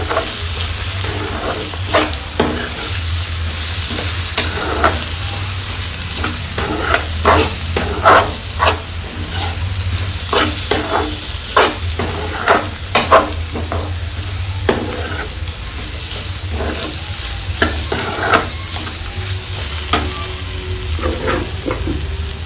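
Capsicum curry with coriander powder, garam masala and turmeric sizzles loudly in a pan while a spoon stirs it, making frequent rhythmic scrapes and clinks for over twenty seconds, with no voices.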